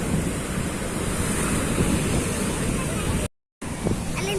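Ocean surf and cool wind at Uchila beach roar steadily with buffeting wind noise on the microphone, broken by a brief full dropout near the end before the waves resume.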